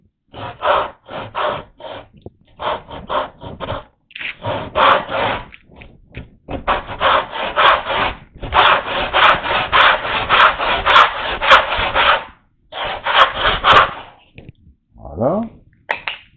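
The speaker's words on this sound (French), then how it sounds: "j'utilise ma scie à dos." A hand back saw cuts a wooden tenon, a bench holdfast clamping the work, in steady rasping strokes, each a dry scrape, coming in bursts with short pauses between runs, close and loud.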